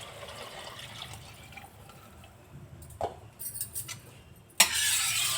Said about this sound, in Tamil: 6 டம்ளர் தண்ணி அளந்து வச்சுருக்கேன், ஊற்றிடுறேன்